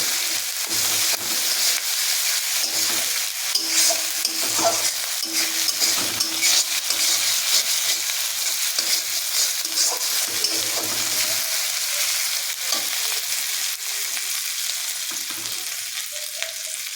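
Green chili, tomato and ginger-garlic paste stirred in a frying pan for prawn malaikari, with a steady broad sizzle and scraping spatula strokes continuing throughout, close and fairly loud, with no talking.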